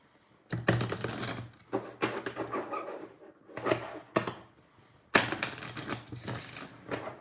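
Tarot cards shuffled outdoors on a cold, windy day, giving bursts of crisp riffling and rubbing in three or four separate runs, close and moderately loud with short pauses between them.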